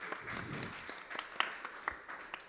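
Light audience clapping at a game-development panel discussion on QA for free-to-play games, celebrating a former student's graduation; a short, fairly quiet patter of scattered claps for a couple of seconds.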